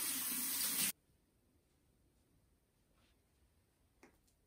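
Tap water runs loud and steady for about a second while the face is washed, then cuts off into near silence broken by a faint click.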